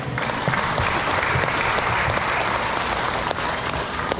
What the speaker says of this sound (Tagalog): malakas pang palakpak sa ating Panginoon